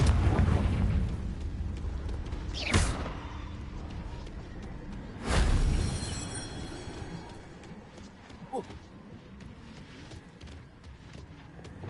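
Confringo blasting curse from a wizarding video game: two loud, deep booming blasts a few seconds apart, with a smaller crack later, over a low rumbling game ambience.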